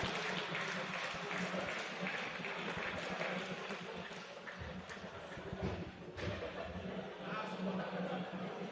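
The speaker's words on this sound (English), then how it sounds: "Please, another round of applause." Audience at a pharmacists' building launch in Ibadan, Oyo State, giving a round of applause, a faint, distant wash of scattered clapping with a murmur of voices underneath.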